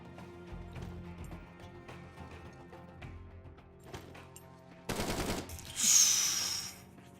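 Gunfire in the video game Blackout, a string of scattered shots at moderate distance followed by a louder burst of rapid fire and a bright crash near the end, with no speech.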